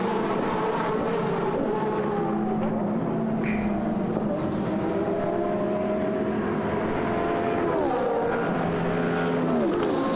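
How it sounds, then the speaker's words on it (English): Attempto Racing Porsche 997 race car during qualifying, its engine droning loudly throughout with rising and falling pitch as gears change, other cars audible around it, with no talk. "Jürgen Hering battling away again in the Attempto Racing Porsche 997."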